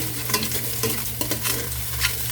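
Tomatoes and onions sauté in a pan without oil for sinigang, with a soft, continuous sizzle broken by the clatter and scrape of a spoon stirring.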